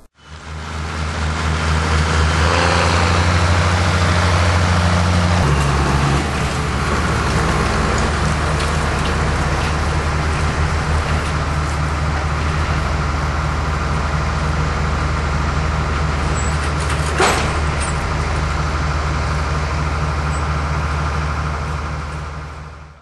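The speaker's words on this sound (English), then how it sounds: "What you saw there was the field wagon being pulled up to the edge of the field by the tractor" A tractor tows a cotton field wagon up to the edge of a cotton field in Jackson County, Alabama, giving a broad, steady engine and rolling noise that holds loud throughout, with a small shift in tone early on.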